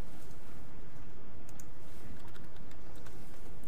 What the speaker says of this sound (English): Now let me type in TC.